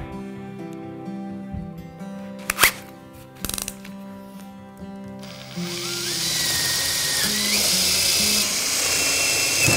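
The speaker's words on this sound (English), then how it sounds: "I'm going to check the size of the drill." A couple of sharp clacks are followed by a power drill whirring steadily at high pitch, running continuously to the end.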